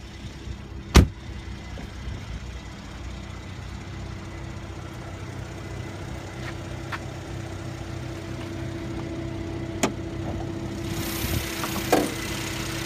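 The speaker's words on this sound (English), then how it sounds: "Under the hood is a 3-liter V6 bi-turbo engine with direct fuel injection" A 2015 Mercedes-Benz SL400's 3-liter V6 bi-turbo engine idles steadily with a low, even hum, broken by a sharp click near the start and a couple of faint taps later.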